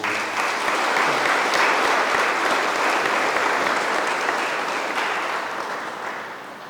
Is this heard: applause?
yes